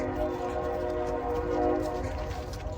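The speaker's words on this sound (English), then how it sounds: "there's a train going by" A train rumbles past with a sustained horn-like tone over the heavy rolling noise of the cars, loud and steady throughout.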